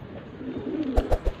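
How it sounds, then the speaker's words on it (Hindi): A Madrasi pigeon coos close by, a soft low murmur followed by three quick, throaty pulses near the end. "ये मद्रासी कबूतर है"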